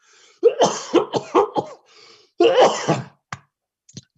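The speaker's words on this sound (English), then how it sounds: "I got to cough just a second" A series of harsh coughs in quick succession, close and loud, then a pause and a longer throaty cough followed by two faint clicks.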